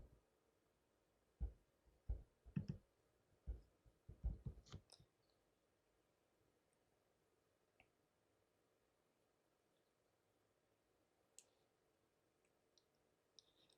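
A computer mouse clicks in a quiet room. A quick series of about a dozen sharp, close clicks is clustered in the first few seconds, followed by near silence broken by a couple of faint isolated taps.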